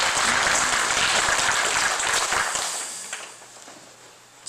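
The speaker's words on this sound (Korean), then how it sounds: "박수 한번 치봅시다." Congregation in a church service clapping together, a dense burst of applause that starts full and loud, then thins and fades over several seconds with a few scattered claps near the end.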